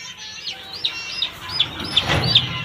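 Broiler chicks cheep in a series of short, high peeping calls, repeated several times in quick succession over a soft background, close by with no talk.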